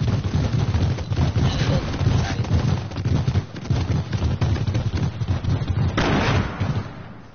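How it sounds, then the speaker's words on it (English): Fireworks bursting in an online 1v1 shooter game, a dense, continuous run of loud pops and booms with a brighter burst near the end, heard up close with no talking. "He hit me with the fireworks."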